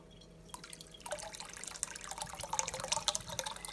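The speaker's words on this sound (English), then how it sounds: "I'm gonna pour the rest of this soda in here." Bubly sparkling water poured into a container, a stream of liquid splashing and fizzing with small drips, close and moderately loud, building over a few seconds.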